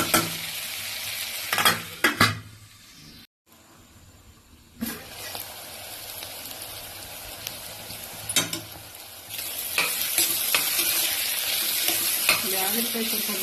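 Bitter gourd for a gojju fries on medium flame in a pan and is stirred, with bursts of spatula scraping and clatter over a soft sizzle. There is a brief silent gap, then the frying grows louder and steadier.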